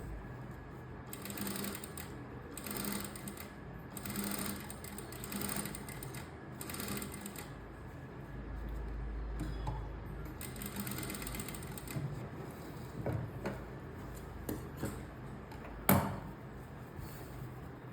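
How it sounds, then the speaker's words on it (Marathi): A sewing machine topstitches the round collar of a co-ord set, running in quick rattling bursts with brief pauses between, close by and with no talk. "जितकं तुम्हाला येईल तितकी आपण दाबटीप अस्तरवरती, म्हणजे जिकडे आपलं कॅनव्हास नाही त्या साईडला आपण टीप मारायची आहे"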